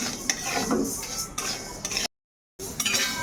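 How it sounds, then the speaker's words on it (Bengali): Mung dal is stirred as it dry-roasts in a pan, with a steady scraping and rustling of lentils against metal, close and continuous, broken by one short silence. "এখন এই মুগ ডালটা শুকনো খোলায় একটু হালকা করে ভেজে ভেজে নেব"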